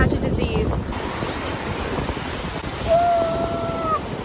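Ocean surf at a beach in Galveston, Texas, a steady broadband wash mixed with wind buffeting on the microphone and a faint high tone near the end.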